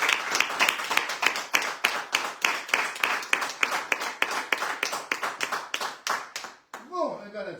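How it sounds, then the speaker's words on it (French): An audience claps in a studio, a crisp, steady burst of applause that fades out before a voice begins speaking. "par vos applaudissements, vous leur envoyez plein de bonheur là où ils se trouvent"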